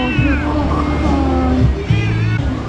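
A half-wild cat on a beach in Cambodia meows several times, drawn-out and wavering, close by, with a low rumbling hum underneath.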